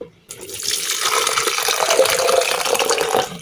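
Water is poured into a mixer jar holding grated coconut while making virgin coconut oil. After a brief silent moment, a steady, close, fairly loud gush of splashing liquid runs for about three seconds, with no talking.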